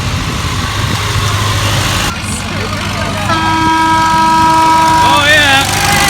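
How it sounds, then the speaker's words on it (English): Old vintage tractors come down a road, their engines running steadily and fairly close, with rising whining tones and a toot-like note toward the end, heard over a noisy outdoor background. "we heard a noise coming down the road, and it turned out to be a load of friends in their old vintage tractors"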